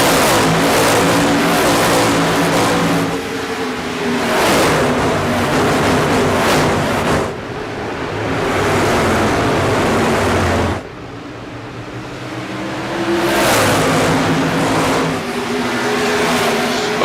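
Sprint car engines roar together as the field accelerates at the race start at the Milwaukee Mile in iRacing, loud sustained revving that rises and shifts in waves, with no talk over it.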